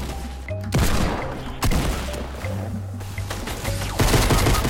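Gunfire in the video game Fortnite crackles in dense bursts, rapid overlapping shots with sharp booms at intervals, loud and continuous throughout with a steady low hum underneath.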